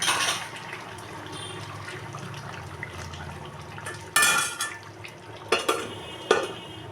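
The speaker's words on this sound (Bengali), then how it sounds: "এখানে কিন্তু চিকেনটা কষা হচ্ছে সব দিয়ে দিয়েছি এখন আমি দিয়ে খালি কষাচ্ছি" Chicken being stir-fried in a pot, with a soft background sizzle and rhythmic scraping and clanking of a spatula against the metal, a few louder knocks near the end, close up with no talk.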